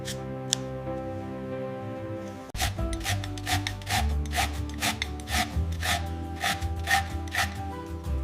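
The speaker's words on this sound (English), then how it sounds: "Fresh orange zest adds an amazing aroma." An orange is zested against a grater in a kitchen. Rapid rasping strokes follow one another in a fast, uneven rhythm, close and crisp, with no talking.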